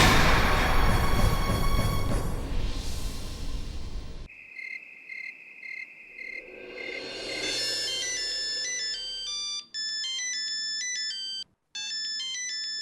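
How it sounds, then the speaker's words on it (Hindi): A phone ringtone plays a bright repeating electronic melody, loud and close, pausing briefly before the tune repeats, after a noisy swell at the start. "यह तो उसी नकाबपोश का फोन है।"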